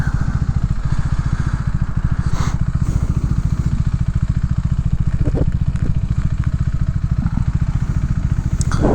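A motorcycle rides through Chicago streets with a steady, close engine drone and a fast pulsing rhythm throughout, accompanied by faint clatter and a few light knocks.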